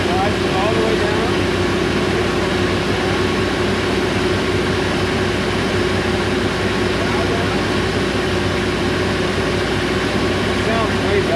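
A newly swapped engine in a 1999 Formula 280 Sun Sport boat drones loudly and steadily with a constant hum and rumble, running without pause the whole time and no other clear sounds on top.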